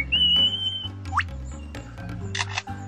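A lyrebird mimicking a camera shutter among other sounds: a few sharp clicks and chirpy whistled notes over low background tones, fairly close, with no talk.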